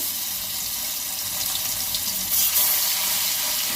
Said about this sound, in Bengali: কড়াতে তেল দিয়ে দিয়েছি, গরম হয়ে গেছে। তো মাছগুলো ভেজে নেব।